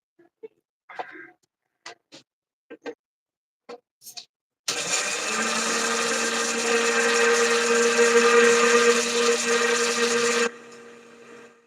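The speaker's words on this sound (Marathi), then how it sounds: "मिश्रण मिक्सर वरती बारीक करून घेऊया" A mixer grinder grinds a sugar mixture, whirring loudly and steadily for about six seconds, then cuts off, preceded by a few scattered clinks and taps.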